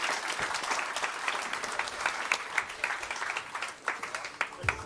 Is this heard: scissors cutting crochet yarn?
no